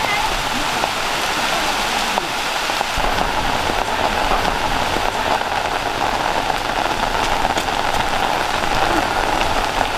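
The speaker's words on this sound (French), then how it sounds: "Bon Dieu, c'est la pluie à tomber." Heavy rain falling steadily, a dense close patter and rush on surfaces that persists throughout, with voices talking in Haitian Creole and French over it.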